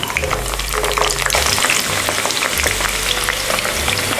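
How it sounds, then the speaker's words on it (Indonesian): Steady crackling sizzle of eggplant frying in hot oil, close and continuous, with a low background hum throughout. "Minyaknya sudah panas, kita mau menggoreng terong."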